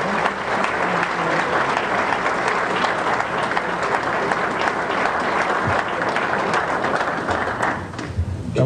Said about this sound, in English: If not, let's give him a round of applause.